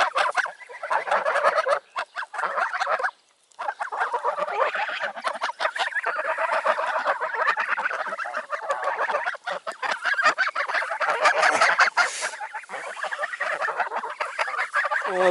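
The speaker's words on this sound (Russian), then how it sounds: "Вот такие у нас гуси." Continuous loud honking and gabbling from a crowd of geese nearby, overlapping calls filling the whole stretch.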